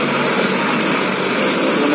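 A tractor engine strains steadily at high revs while stuck in mud, a dense, loud, continuous mechanical roar with no speech.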